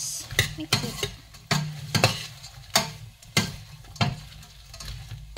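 Food being stirred and mixed in a cooking pan, with repeated close scraping and clacking strokes from a utensil at a steady rhythm over a light sizzle.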